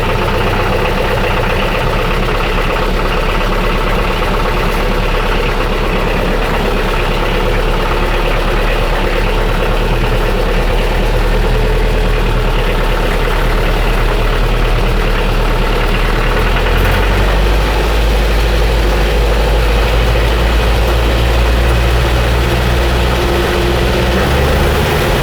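Scammell Scarab Post Office truck engine running steadily while driving, a loud, close, continuous low rumble with a rattling cab and no talk.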